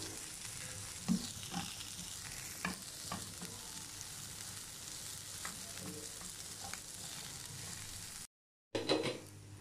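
Red cabbage fries in a pan with a steady, soft sizzle. A few light stirring knocks come through, then a brief cut and a louder burst of sizzling.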